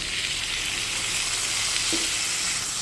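Spiced masala sizzling in a pan after sour yogurt is added for a home-style small rohu fish kalia: a steady, even frying hiss that carries on throughout without pause.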